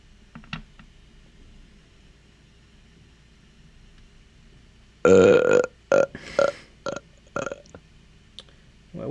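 A loud, close burp in several rough pulses after a stretch of near quiet with faint background hum.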